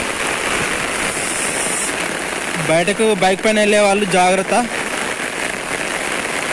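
Steady downpour drums on surfaces during heavy Hyderabad rain, a constant close hiss that keeps going while someone speaks briefly over it midway.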